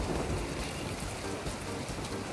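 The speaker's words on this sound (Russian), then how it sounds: "к счастью, дождь заканчивается" Steady rain falls during a thunderstorm outdoors, a dense even hiss of drops with no voices.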